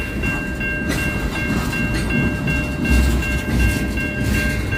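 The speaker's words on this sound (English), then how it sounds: "Looks like this is the end of the train." A freight train rolls past at night with its last cars going by, a steady loud rumble and clatter of wheels on rail, close, with a faint high tonal whine running throughout and no talking.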